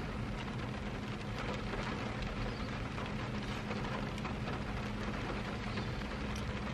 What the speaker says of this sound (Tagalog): Maulan din. Ay, grabe yung ulan.